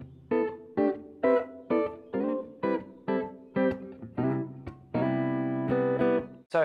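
Jazz-voiced guitar chords from a lesson, strummed one at a time in a steady series of about nine ringing hits, the last one sustained longer, played clearly with no talking.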